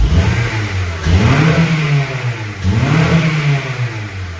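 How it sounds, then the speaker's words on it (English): Acura RSX engine with the stock exhaust, revved twice with rising and falling pitch, then settling back toward idle between pulls, close and loud. "This is just what it sounds like with the stock exhaust."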